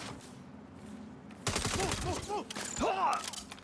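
Police open fire during a Saints Row street shootout, with a rapid, dense burst of gunshots close by, accompanied by sharp ricochet-like zips and chaotic action noise.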